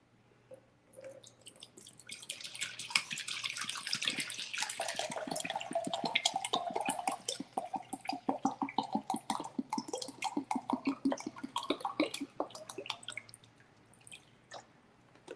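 Water runs from a tap into a container while being measured out for making ai yu jelly, a trickling stream that swells and then breaks into quick repeated drips and splashes, close and alone.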